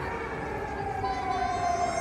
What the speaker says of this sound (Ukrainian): Так, Повітряна тривога. Так її чути